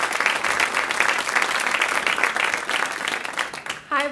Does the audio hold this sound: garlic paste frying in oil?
no